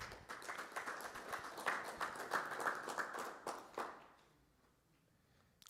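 A small audience at an energy collaboration side event gives a panelist a short round of applause, with distinct claps close by. It fades out after about four seconds, leaving quiet room tone.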